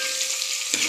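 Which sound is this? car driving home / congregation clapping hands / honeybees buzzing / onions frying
onions frying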